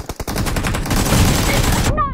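Gunshots in a mobile shooter game played on an iPhone 8 Plus: a quick run of sharp reports, then a dense loud barrage, with a short voice cutting in at the very end.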